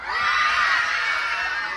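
A crowd at a gay pageant cheers and shouts continuously, a dense wash of high screams, whoops and yells filling the room, loud and sustained throughout.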